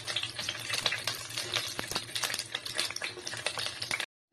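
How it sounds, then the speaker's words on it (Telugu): Green chillies fry in two spoons of oil, a close crackling sizzle with rapid pops and spitting, ending abruptly. "2 స్పూన్స్ ఆయిల్ వేసుకొని పచ్చిమిరపకాయలు వేసుకోవాలి"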